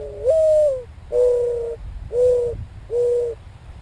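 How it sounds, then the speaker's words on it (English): A mourning dove coos in four soft, drawn-out hooting notes, evenly spaced, close and clear over faint background hiss. "That mournful cooing, hence the name, the mourning dove"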